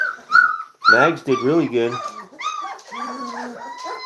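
Doberman puppies at their first weaning feed give high, thin whimpers and yips in short bursts, close by, mixed with a person talking over them.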